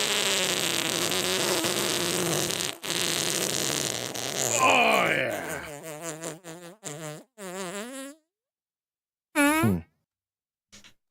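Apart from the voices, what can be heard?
fart sound effect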